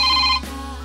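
Telephone rings briefly in a TV drama, a clear electronic tone that cuts off abruptly and leaves a low background hum.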